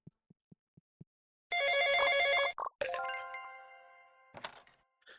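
A telephone rings in the Arctic Motel video game: a few soft ticks, then a loud electronic ringing tone, a sharp thunk, and a lingering chime that fades out, followed by another brief ring.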